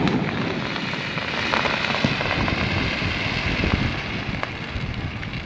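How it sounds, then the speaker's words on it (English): A fireworks show seen from a penthouse balcony in Pattaya, Thailand, with continuous distant crackling and popping under wind noise and no talking. "looks like there's a fireworks show going on"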